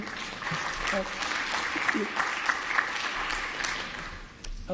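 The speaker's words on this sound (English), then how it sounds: "Let's wait to clap until the end." At a speech event, an audience claps in a steady, moderately dense patter that continues throughout, with voices talking over it.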